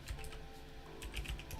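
Quick clusters of keystrokes on a computer keyboard, soft clicks in short irregular bursts, faint and close with no talking.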